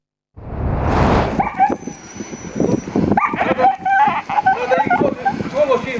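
A dog barks and whimpers close up, with yelps and whining cries, mixed with people talking excitedly and some background noise.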